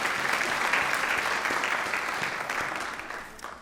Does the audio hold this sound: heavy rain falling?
no